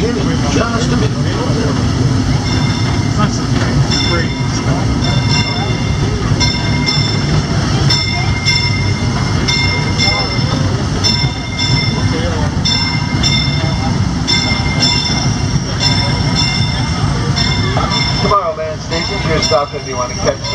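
Riding aboard the Disneyland Railroad, the train rumbles steadily with loud, continuous wheel-on-rail noise and rhythmic clacks from the track joints, while people talk in the car over the din.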